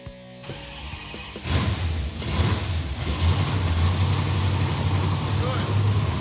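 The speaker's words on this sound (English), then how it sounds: "Wow! A lot could have went wrong, but I've got a running truck." A Hemi V8 in a Mopar muscle truck cranks briefly, fires after about a second and a half, revs, then settles into a loud, rumbling idle up close.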